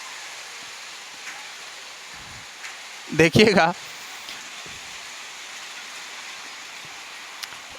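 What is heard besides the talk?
rain starting to fall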